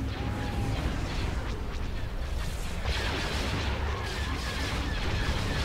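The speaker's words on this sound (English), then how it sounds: "Prepare the plasma cannons." Plasma cannons firing in a Star Wars space battle video game, sounding as dense continuous booming and crackling bursts layered over a roaring fleet-battle background.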